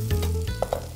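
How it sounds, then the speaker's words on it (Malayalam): Beans and carrots tipped into a hot pan for chicken thukpa sizzle loudly and steadily, with a couple of brief stirring scrapes over the constant frying hiss. "നമുക്ക് അതിലേക്ക് വെജിറ്റബിൾസ് ചേർത്ത് കൊടുക്കാം. ഓക്കെ, ബീൻസ്, കുറച്ച് ക്യാരറ്റ്"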